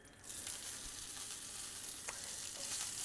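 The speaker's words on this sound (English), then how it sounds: "This grill pan is hot, hot, hot. Let's go ahead and get our broccolini on top." Broccolini sizzles steadily on a hot grill pan, a constant crackling hiss with a few small pops, heard up close with no talking.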